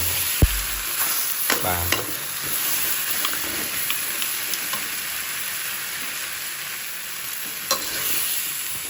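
Marinated pork spare ribs are frying in hot oil for a sweet and sour stir-fry, giving a steady, close sizzle with a few utensil clatters early on. A voice says one brief word.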